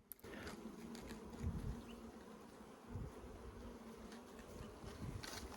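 Honeybees buzz continuously around an open hive in a quiet, dense hum, individual bees droning closer and then drifting away.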